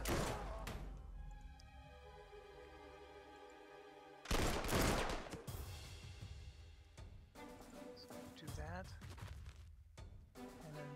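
Artillery fire in the war strategy game Panzer Corps 2 lands as a few sharp booming blasts, one heavy and long, amid quieter music-like tones, at moderate loudness.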